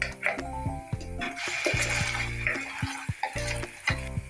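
Ground masala paste for Goan-style fish curry is added to sautéed onion in a pan and stirred, with soft sizzling and scraping beneath prominent background music.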